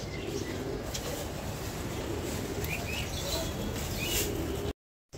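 Racer pigeons at a farm coo softly and chirp over a constant background hiss, several birds calling intermittently at moderate distance, with no talk.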